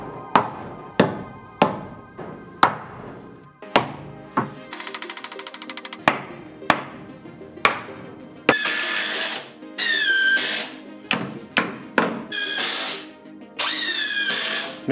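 Power tool cutting out a wall stud to clear a path for a pipe, heard as a run of sharp repeated bursts, a brief rapid buzzing stretch, then longer high whining cuts, loud and close with no talk.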